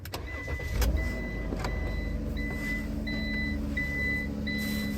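A van engine cranks briefly and catches, then settles into a steady idle rumble, with a thin electronic beeping tone repeating through it.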